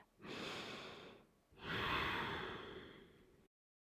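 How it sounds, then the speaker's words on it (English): Strong, deliberate breathing during an Ashtanga yoga practice: one long inhale followed by a longer, forceful exhale, close and breathy, with no talking. "3 to 5 rounds of strong breath. Listen to your breathing."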